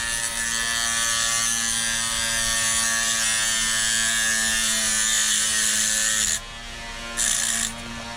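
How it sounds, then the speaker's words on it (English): Steady high-pitched whine of a small rotary cutting tool slicing off the end of a motorcycle CV40 carburetor throttle cable during a kei vehicle carb swap, running continuously and close, then cutting out briefly before a short final burst. "we're going to be cutting the original throttle notch off"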